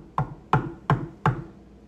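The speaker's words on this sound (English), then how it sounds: "I'm knocking." Four firm knocks on a door, evenly spaced and close, each a sharp hollow thud with a short decay, and silence in between.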